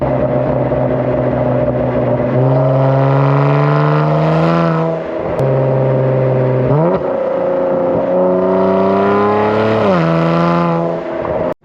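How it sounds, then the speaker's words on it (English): A loud Kia Stinger exhaust with catless downpipes revs up and settles twice, deep droning rising to a raspy roar, close and continuous with no talking. "I like this exhaust way better than the Jumbiel. Way louder."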